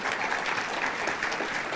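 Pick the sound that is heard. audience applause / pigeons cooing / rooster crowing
audience applause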